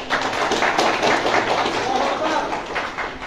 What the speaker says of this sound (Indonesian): Yang tepuk tangan bingung mau Allahu Akbar bingung sama tepuk tangan